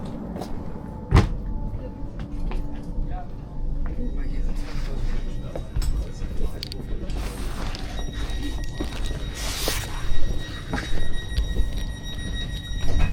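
A train rumbles past a platform close by with clattering and rattling bursts, while people talk nearby; loud and uneven.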